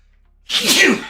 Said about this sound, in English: I'm going to sneeze here in a second.